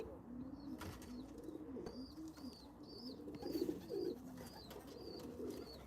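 Pigeons coo repeatedly in soft, low rolling calls, several birds overlapping, with faint chirps and a brief flutter of wings.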